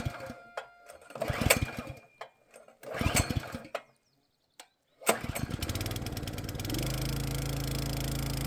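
A small motor runs a gold-panning sluice at an old dig site. After a few rough, stuttering bursts and a pause, the engine catches and settles into a steady, loud drone.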